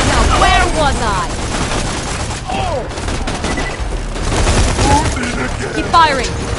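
Video game gunfire in Borderlands 2, played in couch co-op: dense, continuous rapid shots mixed with zapping effects and game sounds, loud throughout, with voices talking over the shooting.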